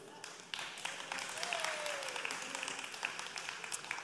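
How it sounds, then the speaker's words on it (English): A church congregation claps in response to a pastor, fairly quiet and somewhat distant, a brief scattered burst that rises after a moment and carries on with a faint voice or tone sliding through. "I don't know how to take that clap right there"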